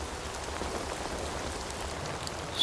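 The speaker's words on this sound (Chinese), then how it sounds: "如此大雨" Heavy rain falling steadily, a soft continuous hiss of drops on surfaces with no voices, faint and even throughout.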